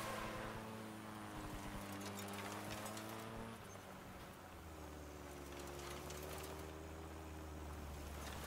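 A low, droning vehicle engine hum in the video game Crossout, with a shifting pitch, steady throughout and moderately loud, like a motor idling and revving slightly, no speech.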